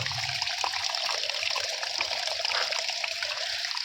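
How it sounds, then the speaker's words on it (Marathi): Spring water trickles and flows steadily inside a well shaft about 36 feet down, a continuous close splashing stream. "हे तर पाणी तर वाहतच"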